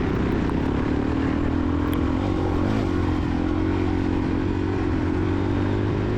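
Suzuki DRZ400E dirt bike racing in a Senior C cross-country event, its engine droning loud and steady at close range with a sustained low hum and no speech.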